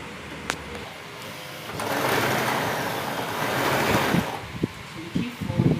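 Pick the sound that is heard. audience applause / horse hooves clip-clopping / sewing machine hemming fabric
sewing machine hemming fabric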